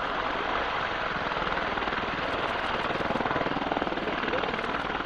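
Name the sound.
Apache attack helicopter flying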